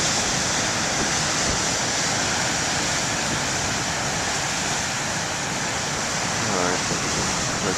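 Small ocean waves breaking on a lighthouse beach in cold winter conditions, a constant roaring surf wash with wind, loud and steady throughout, and a brief voice near the end.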